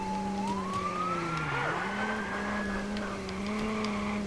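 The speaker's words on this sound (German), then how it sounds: "Ne, ich mache diese halt Sirene aus." A car's emergency siren in the video game Watch Dogs wails steadily, its rising and falling tone over a constant engine rumble, loud and close with no talking.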